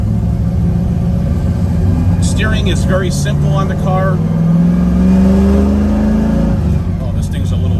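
A 1968 Chevrolet Camaro with a manual clutch, fully restored, pulls away with a low, steady engine rumble that rises as it accelerates, with someone talking over it from inside the car.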